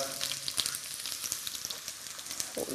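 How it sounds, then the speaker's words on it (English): Onions sizzle steadily in hot olive oil, a close, crackling hiss with scattered pops and occasional stirring noises. "I'm going to start frying off the onions just to give them a bit of color."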